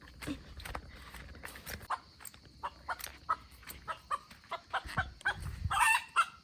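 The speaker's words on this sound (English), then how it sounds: "randomly found a chicken in the garden" A chicken in a garden at Positano clucks in short scattered calls amid light rustling and footsteps, fairly quiet and close, with no talk.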